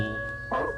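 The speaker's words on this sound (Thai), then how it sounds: "จะได้ยินเสียงหมาเห่า" A single short dog bark rings out, abrupt and close, in a storytelling sound effect.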